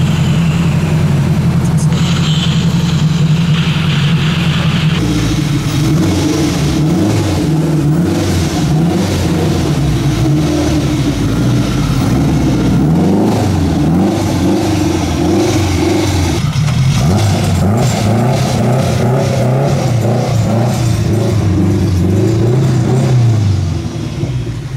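A Honda Civic revs hard on a dyno, its loud engine rising and falling in repeated pulls with a deep chest-thumping rumble that fills the space and never lets up.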